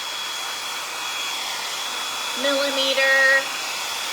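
A blow dryer runs on hair during a layered haircut, giving a steady airy whir through the whole stretch. Near the end a voice briefly talks over it.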